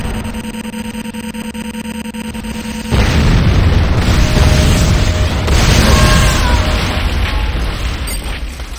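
Buildings blow up in C&C Renegade: a big booming explosion hits after a steady mechanical drone, then a long, loud rumbling roar of destruction with crackling debris fills the rest.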